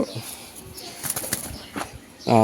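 An Afshan grizzle racer pigeon's wings flap in a quick burst amid faint room noise, with a short voiced sound at the very end.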